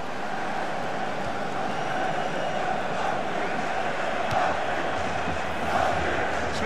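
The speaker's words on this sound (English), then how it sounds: "The crowd love it when he gets the ball." A stadium crowd in FIFA 16, at a UEFA Euro 2016 match between Switzerland and France, keeps up a continuous, dense cheering roar with small swells.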